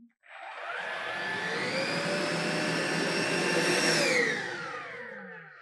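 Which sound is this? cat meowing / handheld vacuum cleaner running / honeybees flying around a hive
handheld vacuum cleaner running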